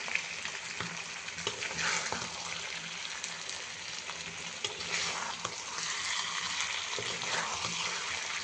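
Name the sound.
chicken bhuna frying and being stirred in a pan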